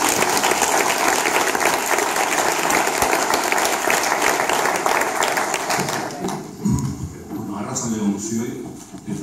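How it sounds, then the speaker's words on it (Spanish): An audience at a digital initiatives event applauds loudly and steadily for several seconds before the clapping thins out and fades, with voices rising as it dies down. "Ahora, aplausos, por favor."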